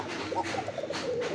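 A white Aroben Koka pigeon coos in a series of soft, low calls over a steady background hum, the cooing close and moderately loud throughout.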